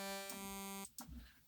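A Serum synth wavetable tone crossfading between noisy wavetables: a bright, buzzy sustained note that shifts its timbre partway through, then cuts off and gives way to a brief hissy, noisy burst, heard alone and fairly quiet.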